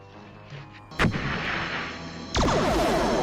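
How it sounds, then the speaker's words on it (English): Grenade launcher explosions in a Star Trek episode: two heavy booms, each with a sharp onset, followed by a loud sustained rumble that carries on under the scene, with no talking. "That was quite a grenade launcher."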